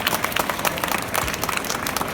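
An audience at a Q&A event in Brussels claps together, a dense, steady patter of many hands that is fairly loud and close, with no talk over it.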